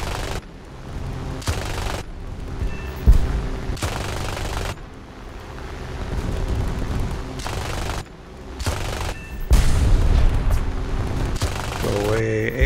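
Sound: War Thunder video game: anti-aircraft gun firing

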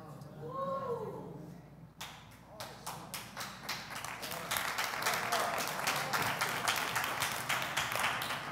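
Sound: audience clapping

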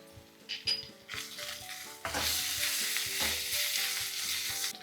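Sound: ginger garlic paste frying with onions

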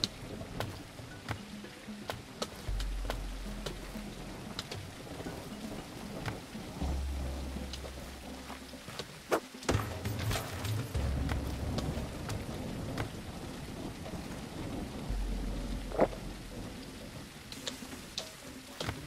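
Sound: rain falling in a video game (Tribe Primitive Builder)

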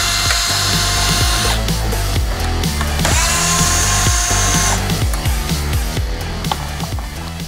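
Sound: removing T15 Torx screws from Jeep Wrangler JK headlight

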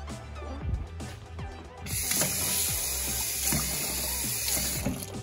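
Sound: water being added to a slime mixture

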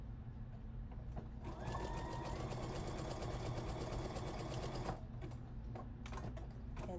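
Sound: sewing machine zigzag stitching fabric

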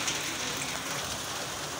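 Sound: rain falling

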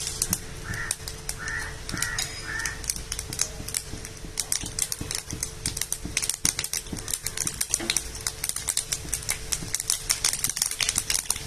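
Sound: mustard and fenugreek seeds spluttering in hot oil

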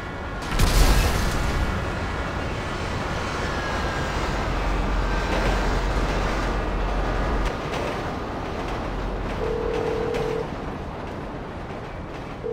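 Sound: train accident in video game GTA 5

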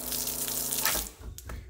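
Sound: water running from a tap fed by a pump in a Toyota LandCruiser

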